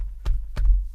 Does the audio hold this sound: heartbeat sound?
yes